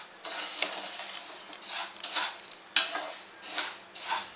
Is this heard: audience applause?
no